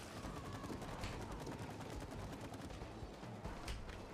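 Gunfire in the video game It Takes Two during a boss fight, a steady stream of rapid machine-gun-like shots, dense and continuous, with a few louder cracks standing out near the end.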